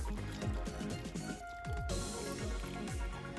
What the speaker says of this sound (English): Put boiling water in this jug and soak up the stock cube. And pour it in